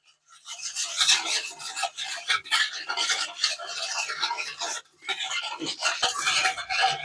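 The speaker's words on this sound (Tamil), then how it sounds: "இது வந்து நல்லா மிக்ஸ் பண்ணிடலாம் சுகர் வந்து நல்லா கரையணும்" Sugar is mixed by hand in a bowl for a Diwali sweet until it dissolves, making continuous gritty scraping and rasping strokes with brief pauses, close and loud.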